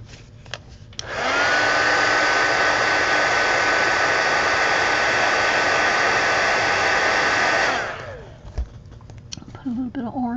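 A hair dryer drying paint on a mixed media collage art card switches on after about a second, blowing a loud steady whoosh with a faint whine for roughly seven seconds, then cuts off, leaving quiet rustling and handling noises.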